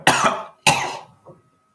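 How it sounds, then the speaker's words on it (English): A person coughs in two sharp, harsh bursts a moment apart, each trailing off, followed by a faint third little cough, close to the listener with no talking. "I'm coughing a bit"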